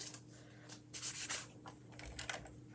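Chalk transfer pieces being sanded at the edges to fuzz them, a quiet scratchy rubbing in short close strokes with a louder burst in the middle.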